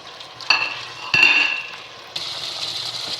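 Ground spices hit hot oil in a pan for a restaurant-style handi chicken, giving a close sizzle with a few sharp clinks and scrapes of stirring, the frying hiss swelling louder toward the end.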